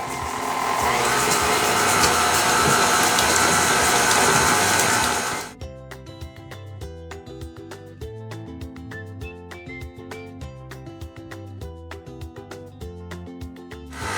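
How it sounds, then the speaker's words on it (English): A stand mixer creams butter and sugar on medium-low speed, a loud, steady motor whir for about five seconds that cuts off abruptly, followed by rhythmic background music. "On a low, medium speed, we are going to cream our butter and sugar together."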